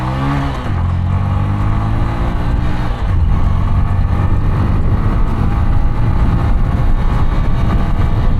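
A Bajaj Platina 100 motorcycle with a four-speed gearbox accelerates hard, its engine note rising in pitch, dipping briefly at a gear change, then climbing again into a loud, sustained drone.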